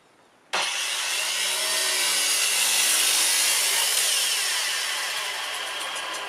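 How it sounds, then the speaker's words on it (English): A saw cuts through a wooden beam for a garden tiki bar, starting suddenly and holding a loud, close, continuous rasping cut that eases slightly toward the end. "I would have to flip the beam over and cut from the other side."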